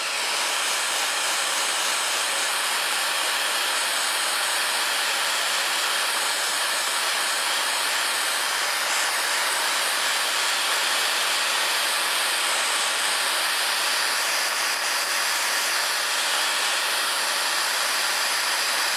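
A brass carbon-felt stove assembly, pre-fluxed and assembled with solder paste, is heated for soldering, with a loud, steady roaring hiss that holds unbroken for the full length.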